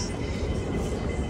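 A train at a station rumbles with a steady low roar throughout, a dense continuous mechanical drone that sounds close and fairly loud, with no voices over it.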